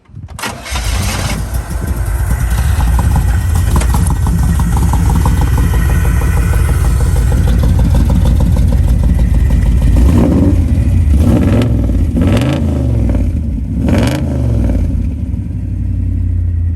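A 1968 Chevrolet Camaro engine cranks and catches, settles into a loud, throaty idle close by, then is blipped in several rising revs toward the end.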